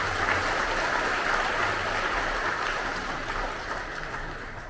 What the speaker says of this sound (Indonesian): Tepuk tangan buat mereka ya.